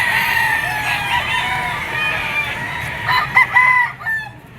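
Roosters crow and hens cluck at a chicken market in Lipa, Batangas, a loud nearby crow rising over the background clucking and rustling of fowl.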